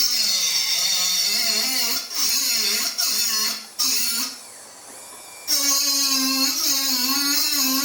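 Small high-pitched power tool, like a dental drill, cutting a metal tooth crown free from its casting sprue: a loud, sustained whine that dips and stutters as it bites, pauses briefly, then resumes steadily.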